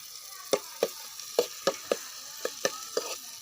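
Onion frying in hot oil in a pan for a chicken dish, giving a steady sizzle with about nine sharp clicks and taps spaced through it, fairly close and with no talking.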